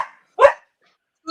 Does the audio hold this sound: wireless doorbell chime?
no